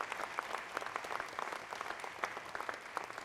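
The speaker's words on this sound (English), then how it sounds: "please, everybody, a big round of applause for these guys" Applause at a historic preservation awards ceremony, an audience clapping steadily, moderately distant and fairly quiet, continuous throughout.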